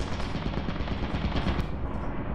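Rapid turret gunfire in the horror game Lethal Company, a dense, continuous rattle of shots at steady loudness with no talking.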